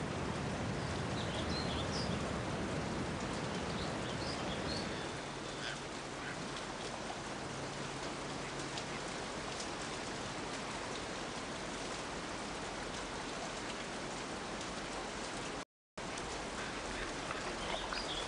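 Steady rain falls across a wet coastal landscape, a dense, even hiss of drops spread wide, with faint bird calls now and then and no voices.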